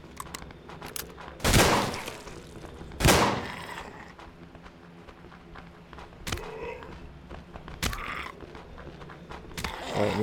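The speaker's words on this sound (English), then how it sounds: "Let's get the double barrel out." A double-barrel shotgun fires in the zombie survival game Survive The Nights: a few loud, sharp blasts spread irregularly apart, with fainter clicks, reload mechanisms and footsteps in between.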